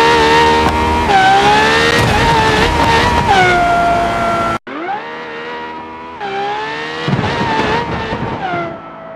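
A Lamborghini in the BeamNG.drive video game runs on a large hamster wheel, its loud, close engine whine climbing and dropping through gear changes. There is a brief cut midway, followed by more revving and some tyre scrubbing.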